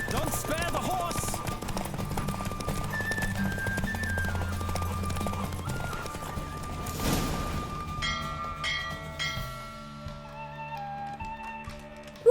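Horse hooves clip-clop at a gallop during a race in the video game Witcher 3, steady and fairly close, under a busy music and game-effects bed, with a few whinny-like calls and faint voices.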